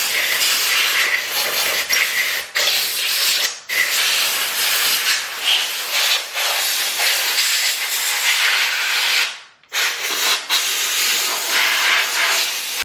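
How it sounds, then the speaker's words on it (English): Compressed air hisses in a loud, steady blast while being blown through a Briggs & Stratton 5hp tiller engine, with a couple of brief cutoffs where the nozzle pauses before the air rushes again. "I'm gonna hit it with some compressed air"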